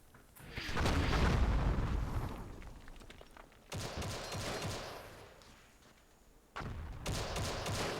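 Airstrike explosions in the Myth II Soulblighter strategy game arrive as a long rumbling blast followed by two more sudden, dense bursts of crackling detonations, loud and close, with no speech.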